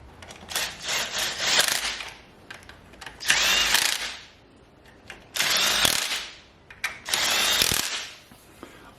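A ratchet tightens Ford Ranger oil pump bolts in four bursts of rapid clicking, each lasting one to two seconds with short pauses between, close and fairly quiet.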